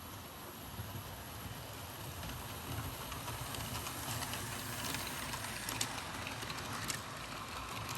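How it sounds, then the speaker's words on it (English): An OO gauge model of a green tank engine runs along its track with a continuous rattling, whirring rumble, steady and fairly quiet throughout, without talk. "this engine hauls like an absolute unit and runs like the bloody Flash"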